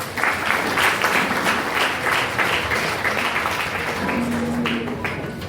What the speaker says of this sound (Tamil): பலத்த கரகோஷத்தோடு மேடைக்கு அழைக்கிறோம்